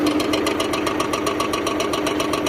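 A Hinomoto 23 hp tractor engine runs steadily nearby with an even, rapid knocking diesel beat and constant vibration, no talk.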